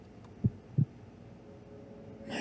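Two soft, low heartbeat thumps in quick succession over a quiet hum, followed by a rising hiss at the end.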